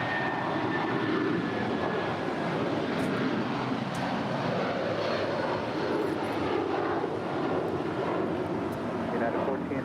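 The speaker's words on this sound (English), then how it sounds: "This is United Airlines Flight 1431 departing to Honolulu." Twenty-year-old United Airlines Boeing 757-300 taking off from runway 25 right at LAX, bound for Honolulu, a steady broadband jet engine roar sustained throughout, with faint voices intermittently over it.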